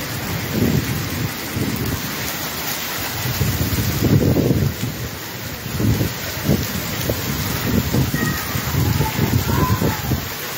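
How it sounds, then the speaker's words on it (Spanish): Finger-sized hail pours down in Placetas, Villa Clara, making a loud, steady pelting roar that swells and eases in waves, with low gusty rumbles underneath. "Agua en placeta con granizo"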